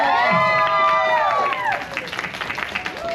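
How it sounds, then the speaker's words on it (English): A crowd at a Disney fan expo costume contest applauds the kids' first runner-up, with cheering and a loud wash of clapping. Sustained tones ring above the crowd at first, then scattered claps carry on more loosely. "All right, round of applause for our first runner-up,"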